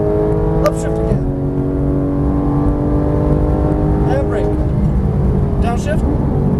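A Porsche GT3 engine revs hard on the Las Vegas Motor Speedway track, droning loudly and continuously, with pitch dropping at each of two upshifts. A voice is heard over the engine.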